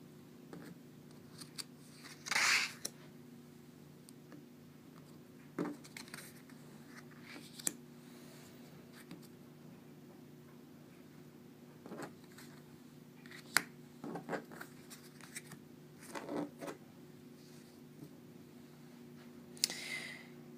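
Tarot cards handled and drawn from a freshly shuffled deck during a weekly reading, giving soft scattered clicks, slides and snaps spread sparsely through a quiet room, with a brief louder rustle near the start and another near the end.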